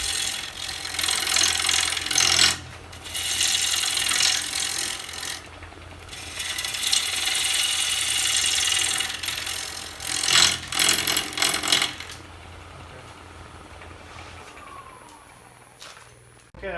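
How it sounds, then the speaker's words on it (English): Wood lathe turning a winged bowl, with a gouge scraping and rubbing against the spinning wood in long loud passes broken by short pauses, before the machine winds down to a quieter hum. "Okay, I've stopped the lathe again."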